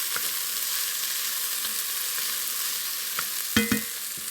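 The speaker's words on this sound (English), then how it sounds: "To that I'm going to add celery and onion. And we're just going to saute that a little bit" Celery and onion sautéing in bacon fat give a steady, moderately loud sizzle, with a few light scrapes and a brief clatter of utensil on pan near the end.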